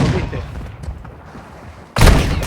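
Gunfire in the Warzone Mobile shooter on the Scrapyard map: a muffled shot and rumbling tail at first, then a sudden loud burst of fire near the end, with a voice talking.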